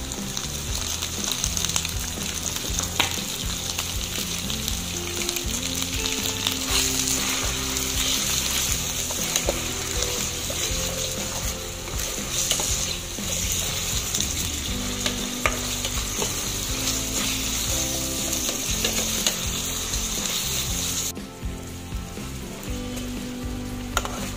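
Chicken breast frying in a wok for pansit bihon makes a loud, steady sizzle with occasional stirring clatter. A faint music bed runs underneath and no one speaks.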